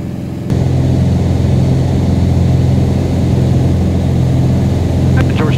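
Beechcraft Bonanza piston engine settling at modest climb power, a loud steady droning hum heard from inside the cabin throughout, with a brief burst of higher noise near the end.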